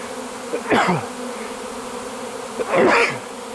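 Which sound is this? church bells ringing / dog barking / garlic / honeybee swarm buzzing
honeybee swarm buzzing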